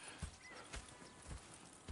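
Hooves of horses in Red Dead Redemption II clopping at an easy walk, four or five soft distinct beats spaced about half a second apart, fairly quiet and close.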